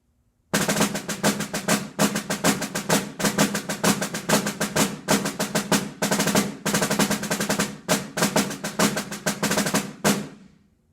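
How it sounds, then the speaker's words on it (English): Orchestral snare drum played in a fast, steady rolling rhythm with dense crisp strokes and brief pauses, loud and close, ending abruptly. "the snare drum would usually be found playing something like this."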